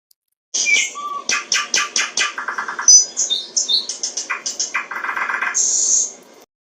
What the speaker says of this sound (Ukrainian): Це була пташка, соловейко.